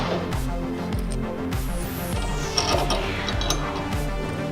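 A hand ratchet drives supplied 5/16 bolts into a Quad Logic sway bar mount. It makes a steady series of rhythmic clicking strokes, each a quick run of pawl clicks, close and clear with no talk.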